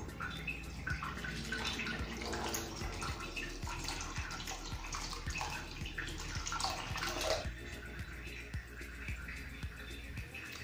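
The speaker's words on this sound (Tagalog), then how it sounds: "lagyan natin ng warm water." Warm water is poured into a sink drain while a tornado-style drain cleaner is being tested. The flow is a steady, fairly soft rush that keeps going for about ten seconds, with faint clicks and splashes underneath.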